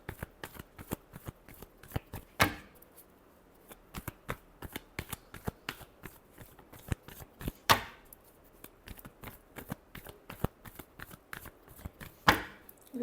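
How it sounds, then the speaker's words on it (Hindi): Tarot cards shuffled by hand in a quiet room, a run of quick crisp riffling slaps with three louder sharp snaps spaced a few seconds apart, close and alone without talk. "Last shuffle."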